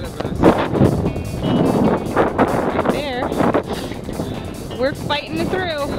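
Wind buffets the microphone over open water during a slow paddle toward Key Largo against wind and tide, a steady rushing roar with voices heard through it.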